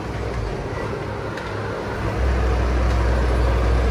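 A steady, loud rushing roar of falling water from a waterfall at a resort in Big Bear, California, fills the whole clip, broad and continuous, with the low rumble swelling slightly partway through.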